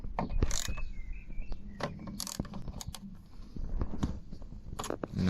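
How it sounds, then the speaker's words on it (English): A ratchet works on a bolt on the outer door panel of a Smart car, giving quick irregular clicks and metallic crunches close up, with short pauses between strokes and no talking. "So loosen this bolt as well."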